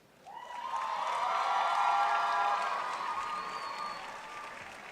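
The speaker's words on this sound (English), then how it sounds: "I now ask the graduates to acknowledge with a round of applause those who have helped you, family, friends, and mentors to achieve this accomplishment." Graduates at an outdoor commencement ceremony at Ravinia Festival Park give a sustained round of applause for family, friends and mentors, the clapping swelling quickly and then slowly tapering off.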